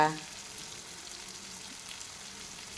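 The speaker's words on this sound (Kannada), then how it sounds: "ಈಗ ನಿಧಾನ ಸಣ್ಣ ಉರಿಯಲ್ಲಿ ಫ್ರೈ ಮಾಡಬೇಕು ಗೋಲ್ಡನ್ ಕಲರ್ ಬರೋ ತನಕ" Finely chopped onion fries slowly on a low flame in a pan, giving a steady, faint, even sizzle that holds close and unchanging throughout after a brief louder start.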